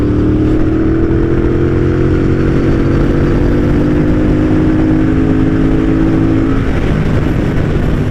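A 2017 Triumph Bobber motorcycle riding and accelerating, a loud steady engine roar with a rising tone as it pulls, thick wind rush all the way through, no voices.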